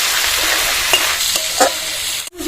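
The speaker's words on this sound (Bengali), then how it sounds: "স্বাদ মতো লবণ দেবো পরিমাণ মতো হলুদ দিয়ে দেবো না দিলেও হবে কিন্তু একটু হলুদ দিলে স্বাদ লাগবে নাড়াচাড়া করতে হবে" Malabar spinach fruits fry in a pan with salt and turmeric, stirred as they cook. A close sizzle carries a few scraping stirs and a brief cut-out near the end, with no voices.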